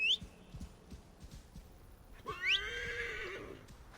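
A horse in the video game Assassin's Creed Origins gives two sharp whinnies, one at the start and a louder one midway, with soft clip-clop hoofbeats between them, close and clear.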